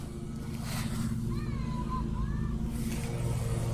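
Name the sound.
someone nearby cutting the grass, lawn mower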